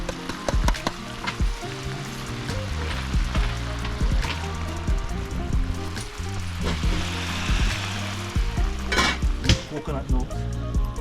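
Quail sizzles and spits in a hot pan for a Jamaican-style coconut sauce dish, a steady close crackle with stirring clinks and scrapes throughout.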